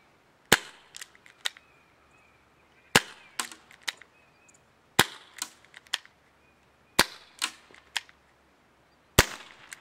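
A prototype airsoft revolver firing metal shells gives sharp, loud cracks at regular intervals of about two seconds, each followed by a few lighter clicks and mechanical clatter.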